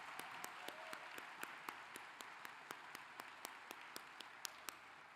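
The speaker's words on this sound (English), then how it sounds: "Let's give them a round of applause." Faint, distant applause rises from a law school graduation audience after violinists perform, a steady patter of many hands with a few sharper claps standing out near the front.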